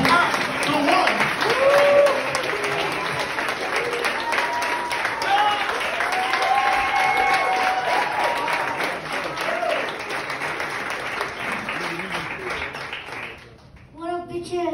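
Applause from an open mic comedy audience in a small venue, a dense, steady wash of clapping mixed with crowd chatter and voices throughout, dropping off briefly near the end before noise resumes.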